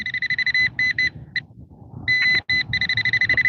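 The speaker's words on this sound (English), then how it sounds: "Okay, so wait for that beep right there" Repeated electronic beeps from an old RadioShack metal detector in a front yard, loud and close, sounding in short bursts with brief gaps and a longer steady tone near the end, over low rustling background.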